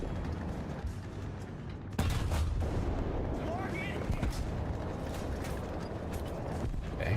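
Tank cannon fire in the War Thunder video game: one heavy boom bursts out abruptly over a rumbling battlefield with mechanical creaks, while someone talks.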